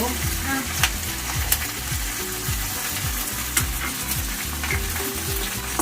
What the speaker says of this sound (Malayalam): കുറച്ച് കറിവേപ്പില, ഇതും പൊട്ടുട്ടോ.